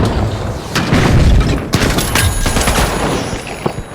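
Frag grenade and RPG explosions in The Finals, loud and close, with a heavy rumbling boom followed by sharp cracks, rolling blasts and scattered debris crashes over several seconds.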